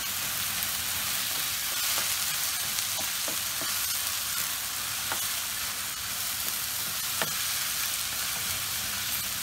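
Beef mince and crushed garlic fry in a pan with a steady, even sizzle, broken by a few light clicks and stirring taps.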